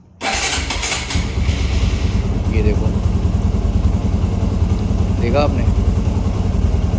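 An 18-year-old TVS Apache RTR 180 motorcycle, just back from a major service, cranks and fires up, then settles into a steady, throbbing idle close by while someone talks over it.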